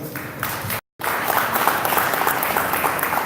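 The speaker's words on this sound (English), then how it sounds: "So round of applause, please." Dense audience applause at a Tokyo hackathon pitch event, a steady crowd of clapping hands broken by a brief silent dropout before continuing evenly.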